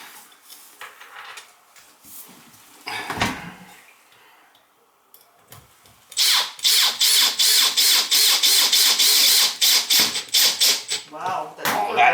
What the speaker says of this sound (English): Put a couple of some new screws in there.